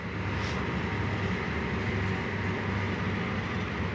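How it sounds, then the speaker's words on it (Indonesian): A container freight train, likely running from Tanjung Priok toward Kalimas Surabaya, rumbles past steadily and close at hand, with a continuous low rolling drone and wheel clatter lasting throughout and no voices. "Oh, kereta angkutan peti kemas ya."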